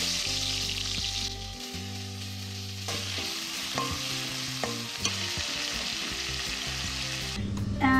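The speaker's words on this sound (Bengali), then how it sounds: "তেল আমার গরম হয়ে গেছে, আমি আলুগুলো আগে ভাজতে দিয়ে নিই।" Potatoes frying in hot oil in a home kitchen, a steady broadband sizzle running throughout, close and fairly loud, with intermittent clinks and scrapes of a utensil against the pan.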